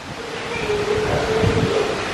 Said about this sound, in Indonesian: angin kencang dong.